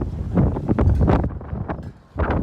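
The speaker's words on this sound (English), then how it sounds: "it's always windy down here" Steady wind blows by the lakeshore in Kingston, Ontario, a loud continuous rush buffeting the microphone, briefly easing before gusting back up.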